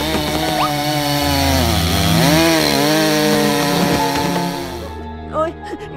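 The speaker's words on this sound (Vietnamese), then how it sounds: "người ta đang cưa cây kìa" A tree being sawn in a cartoon, a loud, continuous buzzing chainsaw-like drone that runs for several seconds and then cuts out, with voices and music layered over it.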